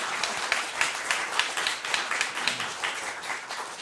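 Audience applauding panelists at a social media event, a modest room of clapping with distinct individual claps audible, steady throughout and no talk.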